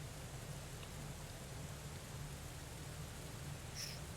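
Rain in an audio drama scene, a constant steady downpour with even texture throughout, alone with no voices and a faint brief higher tick near the end.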